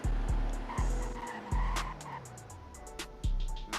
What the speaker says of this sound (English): Let's check the braking